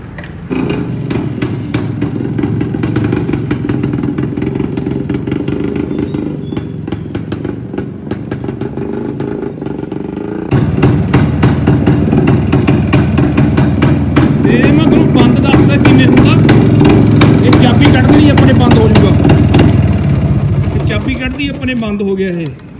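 Modified Yazdi two-stroke motorcycle kick-started and left idling, a loud, rapid, uneven putter that grows heavier midway, with someone talking over it throughout.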